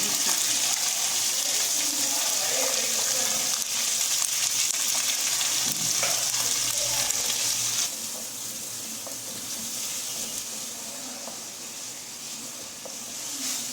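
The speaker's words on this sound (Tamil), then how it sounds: "இந்த இஞ்சி பூண்டு பேஸ்ட்டு போட்டோம்ல, அந்த பச்சை வாசனை போகிற வரைக்கும் நல்லா வதக்கணும்." Ginger garlic paste frying in a pan for chicken gravy, a continuous close sizzle with stirring scrapes and watery crackle that drops slightly in level partway through, no voices.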